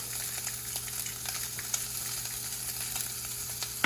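A salted and peppered steak sears in a hot pan on an electric stove, giving a steady, even sizzle with no voices over it.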